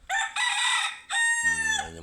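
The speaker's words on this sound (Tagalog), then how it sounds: "Ayan yung manok." A rooster crows outdoors in a yard, a loud, close, drawn-out cock-a-doodle-doo in two bursts with a brief gap, heard alone.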